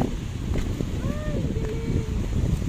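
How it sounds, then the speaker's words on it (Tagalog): Strong wind buffets the microphone on Boracay in a continuous roaring rush, with a faint tonal whistle and a brief voice in the background. "Ang lakas kasi ng hangin, kaya ano."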